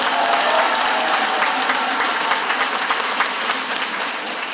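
An audience at a gathering applauds, a dense, loud wash of many hands clapping that continues throughout and eases slightly toward the end.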